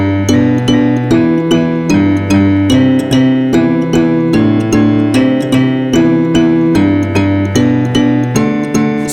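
A Nyunga Nyunga mbira plucks the bass part of Nemamusasa as a steady, looping pattern of metallic tines ringing with a buzzing resonance, played alone and close.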